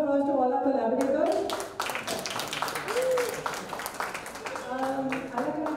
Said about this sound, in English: Big round of applause to all our collaborators.